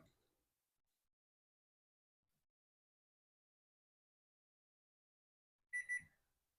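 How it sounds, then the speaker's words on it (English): A kitchen timer for boiling macaroni goes off near the end, a short loud double burst of electronic beeping after long quiet. "there's the timer for the macaronis."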